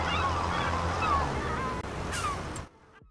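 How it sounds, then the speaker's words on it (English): Seagulls call over surf-like ambience in a farming video game, a few squawking cries over a steady wash that cuts away near the end. "sometimes I think like the seagulls are really loud"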